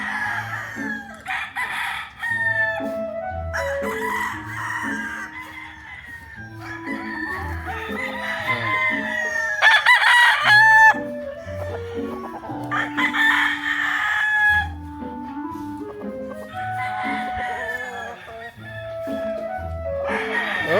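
Gamefowl stags on a game farm crow repeatedly, several birds overlapping in long drawn-out calls at varying distances, with clucking between crows and occasional faint voices in the background.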